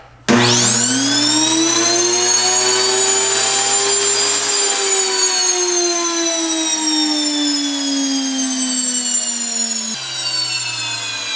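A loud electric grain mill spins up with a rising whine and keeps grinding grain steadily in a piercing, jet-like roar.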